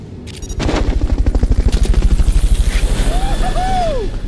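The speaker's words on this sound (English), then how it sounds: "Fulton recovery subject confirmed onboard helicopter." Helicopter in the video game Metal Gear Solid Peace Walker, a loud close rotor thumping in a fast steady rhythm after a brief lead-in, with no talking.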